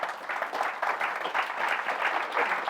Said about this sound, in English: can I please have a massive round of applause for Jim?